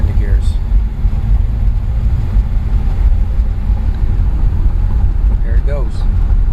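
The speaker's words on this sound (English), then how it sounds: "You can hear it accelerate really nice, quiet" A 1952 Pontiac Catalina two-door hardtop accelerates down a street, its low, steady engine rumble smooth and fairly quiet, carried under wind noise with brief faint chirps over it.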